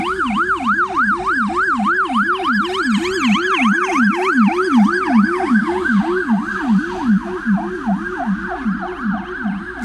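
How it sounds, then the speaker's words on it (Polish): An ambulance siren on Lubelska Street in Chełm, Poland, wails continuously in a steady rising-and-falling pattern, loud and close throughout, with no voices. "Tu jedzie karetka."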